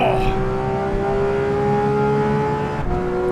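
Race car engine in the Assetto Corsa Evo racing game, revving hard and steady with a strong droning tone that dips briefly near the end, loud and close with a hint of tire noise.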